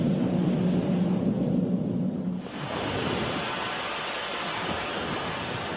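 Sea waves surge in a steady, broad roar that drops slightly partway through and then carries on as a continuous wash of surf, with no voices present.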